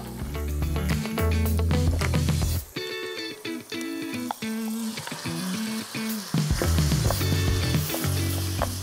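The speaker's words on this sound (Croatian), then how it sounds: "Sada lagano pržimo" Pieces of lamb fry in a pan for a lamb stew, a continuous close sizzle that swells and dips as the meat browns, with no one talking.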